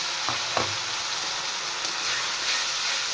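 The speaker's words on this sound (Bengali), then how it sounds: "পেঁয়াজ ফ্রাই হয়ে গেছে, এবার আমি পেস্ট করে রাখা মশলা দিয়ে দেব।" Ground spice paste of garlic, ginger and onion hits fried onions in a hot pan. It gives a couple of soft thumps, then a loud, continuous close-up sizzle with no voices.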